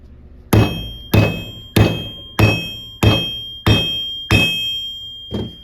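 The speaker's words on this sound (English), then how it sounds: "try to make your strokes with the sledgehammer as even as possible so it doesn't spread out too wonky" A sledgehammer strikes a twisted copper bracelet to flatten it. Seven evenly spaced, loud, ringing blows sound close by, each decaying before the next.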